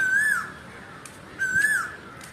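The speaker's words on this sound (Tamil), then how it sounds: "அதுவே தான், அது அந்த குயில் தான்" An Asian koel calls twice outdoors on a hot day, each a clear rising whistled note about a second apart, fairly near over quiet background.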